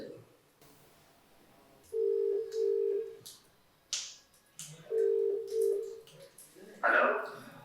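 A phone ringback tone sounds in two paired buzzing bursts, separated by a pause, with brief voice fragments and clicks around them.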